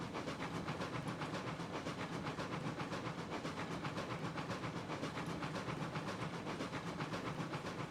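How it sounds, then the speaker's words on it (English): Train rolling steadily along the track in the video game Railroads Online, a dense continuous rumble with hissing steam and faint rhythmic clatter, loud and unbroken with no talk. "I like to watch the train snake around."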